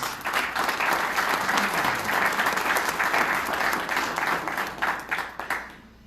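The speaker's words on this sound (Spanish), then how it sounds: "Por favor, un aplauso para el doctor Javier Dávila Torres." A conference audience applauds a doctor at a medical book launch, dense sustained clapping from many hands that holds steady for about five seconds before thinning and fading out.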